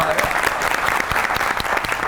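A comedy show audience claps loudly and steadily, dense applause filling the whole moment with scattered cheers mixed in.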